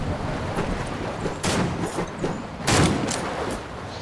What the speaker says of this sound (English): I'm shooting at a team at the gas station.